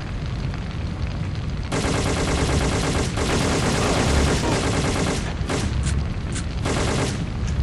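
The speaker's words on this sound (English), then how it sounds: "They're coming under heavy fire." Sustained, heavy gunfire from the video game Syphon Filter 2 in a New York slums mission: dense automatic bursts and booming shots roar continuously and loudly throughout, with no pause.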